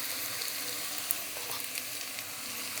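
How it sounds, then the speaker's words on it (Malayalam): Chopped onions with a little salt sauté in a pan for cauliflower masala, giving a soft, steady sizzle heard close by with a few faint stirring clicks and no talking. "ഇനി ഇതൊന്ന് വഴന്ന് വരട്ടെ."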